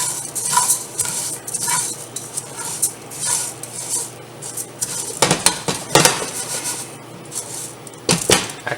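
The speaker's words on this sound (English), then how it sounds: "Now I'm going to stir it around." Jook is stirred in a pot, a spoon scraping and clinking against the sides in uneven bursts, loud and close, with a faint sizzle underneath.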